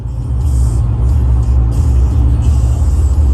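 Chevrolet Silverado pickup, lowered with a 4-6 drop kit and 20-inch wheels, cruising on the road, heard from inside as a loud, steady low engine and road rumble with faint hiss, no talking.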